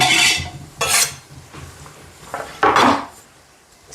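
A spoon stirring seasoning cubes and chopped pepper in a metal pot for family fried rice, with loud scraping clatters in bursts separated by quieter pauses.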